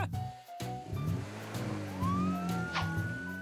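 An ambulance siren in a children's cartoon about firefighters, a rising electronic tone sweeping upward over busy music and sound effects, moderately loud and continuous.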